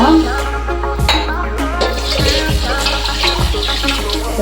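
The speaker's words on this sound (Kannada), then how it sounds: "ಇದಕ್ಕೆ 4ರಿಂದ 5 ಗ್ಲಾಸ್ ನೀರು ಸೇರಿಸ್ಕೊಬೇಕು." Water is poured onto washed toor dal in a vessel, a loud close gushing splash with a few glugging surges, continuous through the pour.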